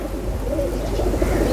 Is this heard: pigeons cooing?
yes